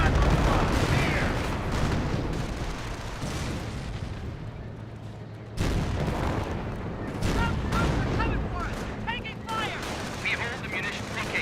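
Company of Heroes 1 battle with dense crackling gunfire and heavy booming rocket barrage explosions, loud and continuous for about eleven seconds with a brief dip midway, while a commentator talks over it.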